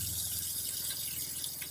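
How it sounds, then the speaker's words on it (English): Hot water runs steadily from a faucet in a Forest River Wolf Pup RV after de-winterizing, a continuous close splashing hiss with no voices. "You can see now the hot water is kicking in"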